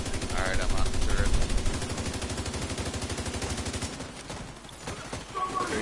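Mounted turret in The Division 2 hammers out rapid, evenly spaced shots in a long sustained burst that stops abruptly, then leaves a quieter stretch of game ambience with a brief sound returning at the end.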